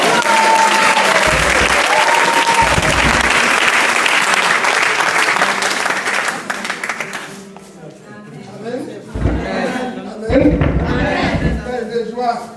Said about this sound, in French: Il faut l'acclamer encore.